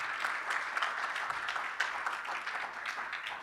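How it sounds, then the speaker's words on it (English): Audience applause fills an investment forum hall, a dense, steady clatter of many hands clapping with scattered louder claps, sustained throughout with no talk over it. "I want to ask for a warm round of applause for Ling, Dan, and Fiona"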